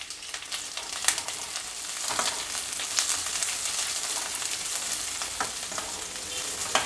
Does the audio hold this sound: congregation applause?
no